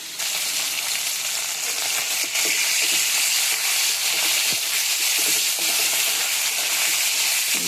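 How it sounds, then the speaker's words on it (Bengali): Oil heats in a kadai with a loud, continuous hissing sizzle that stays even throughout, with a few soft clicks from the pan. "কড়াতে তেল দিয়ে দিলাম, তেলটা গরম হয়ে যাক।"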